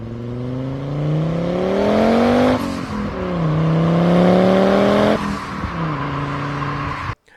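A turbocharged inline-five in a Fiat Coupe revs hard and loud close by, its pitch climbing through repeated surges with brief breaks between pulls, with no talking over it.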